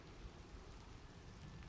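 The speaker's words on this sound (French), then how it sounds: "La pluie." Steady rain falls outdoors during a walk to collect stones, a continuous soft hiss of drops on surfaces, faint and even with no voices.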